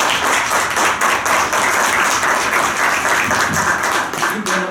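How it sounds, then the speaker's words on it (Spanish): An audience gives sustained applause welcoming a panel at an in-person civil society report presentation, dense steady clapping from many hands, loud and continuous throughout. "aplauso"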